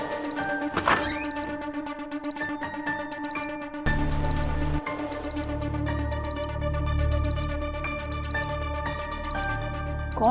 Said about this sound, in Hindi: कौन बेवकूफ यहाँ अलार्म लगा के चला गया है सुबह सुबह फोन पे?